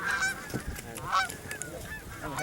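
Flock of geese honking overhead during a northwestern Pennsylvania goose hunt, repeated nasal calls overlapping in quick succession at moderate distance, with faint outdoor background.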